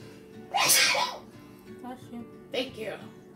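A loud, sharp sneeze, set off by pepper, bursts out near the microphone, then quieter voices talk and a second, smaller sneeze-like burst follows.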